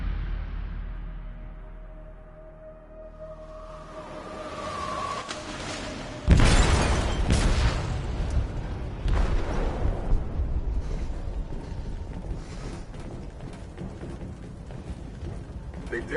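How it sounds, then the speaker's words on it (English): In the Detroit: Become Human video game, an explosive detonates in a ship's hold with a sudden loud blast after a quieter build-up, followed by crashing, shattering debris and a rumbling aftermath. "detonated an explosive in the hold. The ship is sinking, sir."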